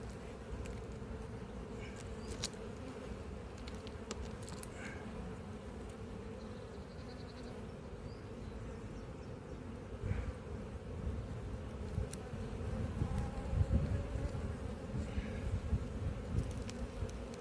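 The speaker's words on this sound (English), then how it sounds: "So you look at the bees from next door raiding this open honey." Honey bees buzz steadily around an open hive in an apiary, a continuous dense drone of many insects with occasional nearer passes, no voices.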